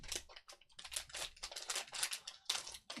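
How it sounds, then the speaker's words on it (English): Scissors snip and crinkle through the foil wrapper of a jumbo pack of 2023 Bowman Draft baseball cards, making a quick run of close, crisp cuts and rustles. "I'm going to get my scissors"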